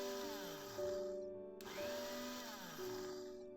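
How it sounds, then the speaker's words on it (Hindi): A kitchen mixer grinder powders biscuits in short pulses, its loud motor whine rising and falling, cutting out briefly and restarting partway through. "बिस्किट ग्राइंड करने के टाइम पे आपने एक चीज़ का ध्यान रखना है कि ग्राइंडर रुक रुक के चलाएं"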